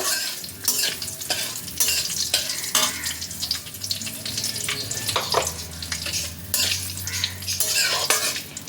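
Whole cumin and whole garam masala spices fried in hot oil, a busy crackling sizzle with frequent metallic scrapes and clinks of a spatula stirring against the pan, close and continuous.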